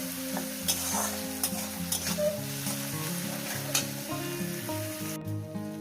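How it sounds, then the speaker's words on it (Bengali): Leafy greens frying in a pan while being stirred, a steady close sizzle punctuated by several sharp spatula scrapes and taps, no one speaking. "এটাকে আমি এক থেকে দেড় মিনিট এটাকে ভেজে নেব ভালো করে সুন্দর করে একটু ভেজে নেব"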